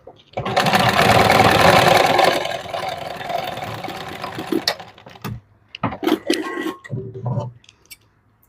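A sewing machine stitches a princess-cut blouse's lining in a loud, steady burst for about four seconds, then slows and stops, followed by short start-stop bursts and handling noises.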